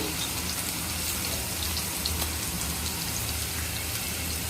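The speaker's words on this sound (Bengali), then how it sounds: "রসুন আর পেঁয়াজটা ফোড়ন হিসেবে দিয়ে দিচ্ছি" Garlic and onion sizzle steadily in hot oil as a tempering for a Bengali fish dish with Malabar spinach, a dense continuous crackle with no talking.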